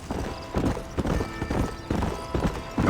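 A horse gallops in the Red Dead Redemption video game, its hooves beating out a rhythmic clip-clop that stays close, loud and steady throughout.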